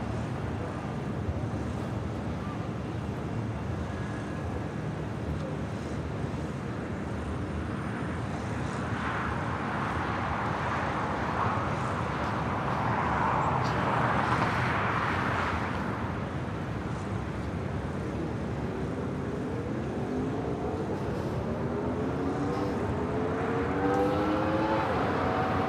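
A jet airliner takes off from runway 25 right at LAX, a steady broad engine roar that swells in the middle and continues at a distance, with wind noise throughout.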